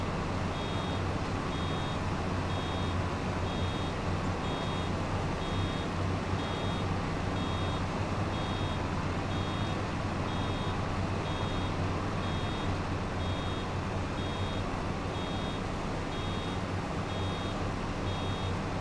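Reversing alarm on a vehicle in Farming Simulator 25, an evenly spaced run of high beeps that repeats throughout over a loud, steady engine drone.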